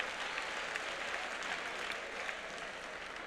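A congregation at a church service gives a steady, moderately distant round of applause, a continuous wash of clapping with no break.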